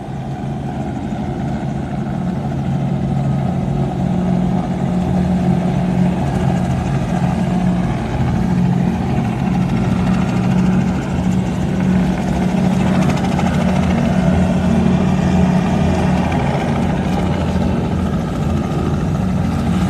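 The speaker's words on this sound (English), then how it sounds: "Look how close it's going to the water. The helicopter's right near me." A helicopter flies low over the water, its rotor and engine a loud, continuous drone that stays close throughout, with a powerboat rumble mixed in and no voices.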